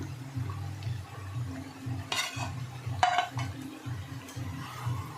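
Country chicken and fried potatoes stirred and sautéed in a pot over a medium flame, with soft scraping, occasional clinks of the spoon on the pot and a faint sizzle, no talk.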